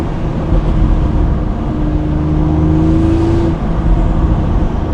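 BMW M235i turbo engine with a sports catalytic converter runs with a loud, steady low drone, joined midway by a rising whistling whine before it settles.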